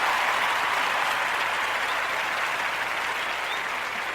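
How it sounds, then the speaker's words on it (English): Steady, dense applause from an audience at a brewery event, loud and sustained throughout with no break, many hands clapping at once. "Let's give them a round of applause."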